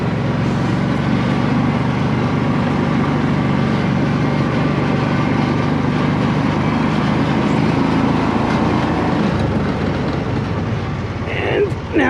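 The engine of a Kawasaki Mule utility vehicle runs steadily after a carburetor rebuild, a loud continuous close-up drone that holds through most of the stretch before easing slightly near the end.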